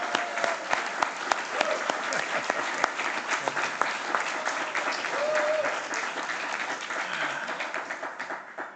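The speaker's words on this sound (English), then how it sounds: "give a big round of applause for B&H Grocer" Audience applause for a long-running family grocery store at a mayor's address, steady dense clapping from a large crowd with a few sharper claps standing out, sustained throughout.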